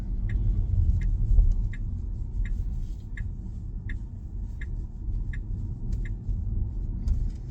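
Inside a Tesla Model Y slowing for a right turn, a low, steady road rumble fills the cabin while the turn signal ticks evenly about once every second.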